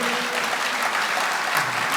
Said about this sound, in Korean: 박수 한번 입장 보내주세요